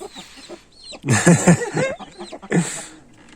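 Hens and chicks on a village farm cluck in short bursts, with a loud rooster-like call near the middle and another burst near the end, set against quieter chirping and background noise.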